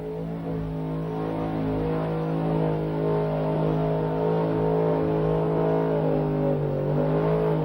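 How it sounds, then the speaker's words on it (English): A car engine holds a loud, sustained high rev during a burnout competition at Summernats 4, a deep droning roar that stays steady for several seconds with the pitch creeping slightly near the end. "This has been a fantastic burnout competition this afternoon for Summernats 4."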